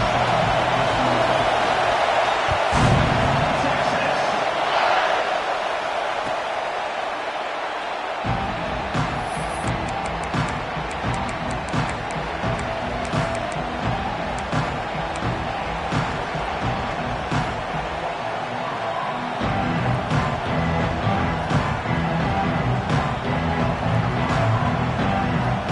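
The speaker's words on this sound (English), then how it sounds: "But this crowd is fired up. Listen to this noise here." Loud, sustained roar of a fired-up basketball arena crowd at a Buckeyes home game, a dense wall of cheering and noise running the whole time with surges near the start and end.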